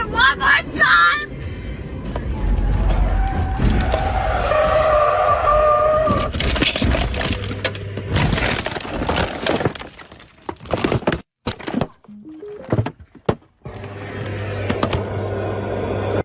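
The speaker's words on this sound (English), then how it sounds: "the car slid on the gravel and then flipped over like this" A car sliding on gravel and flipping over in a crash, with loud crunching, cracking and breaking impacts and glass-like clatter over about sixteen seconds, ending in scattered thumps before a steady engine-like hum returns.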